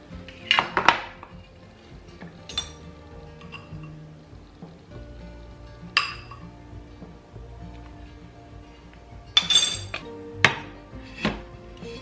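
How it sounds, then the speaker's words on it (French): A metal tarte tatin mould is set down on a cooking plate, giving a few faint, sparse metallic clinks and knocks in a quiet kitchen with no talk. "là je pose mon moule sur ma plaque de cuisson"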